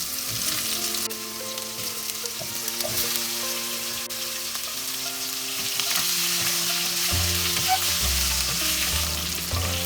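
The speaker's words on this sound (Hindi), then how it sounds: "आलू एंड पम्पकिन हमें अच्छे से फ्राई करना है जब तक हल्का सा कलर चेंज ना हो जाए" Potato and pumpkin pieces frying in oil tempered with five-spice for a pumpkin curry, producing a dense, steady sizzle with occasional stirring clatter, close and even throughout.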